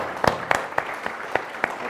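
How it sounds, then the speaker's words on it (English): Scattered, distinct handclaps from an audience at the BioFarm 2022 farming event, sounding as a sparse, uneven smattering of about seven sharp claps over two seconds rather than a dense ovation. "So please, everyone, give Matt a round of applause"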